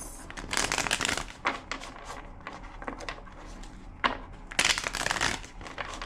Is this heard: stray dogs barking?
no